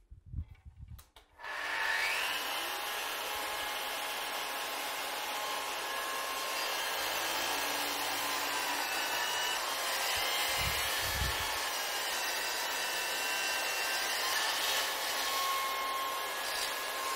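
A Festool CS 50 saw cuts through panels and solid wood, a loud, steady high-pitched whine that starts abruptly and holds for most of the clip, with a few brief low thumps along the way.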